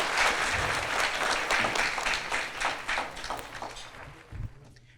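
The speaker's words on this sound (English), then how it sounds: "Let's give the doctor a big round of applause." An audience at a community health event about multiple sclerosis care applauds the doctor, dense clapping that starts strong then thins into scattered claps and fades toward the end.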